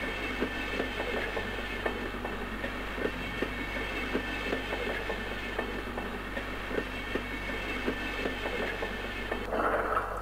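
A train in the Sven Co-op video game rolls along with a steady rumbling hum and regular clickety-clack wheel beats, ending with a brief louder hiss near the end; no voices.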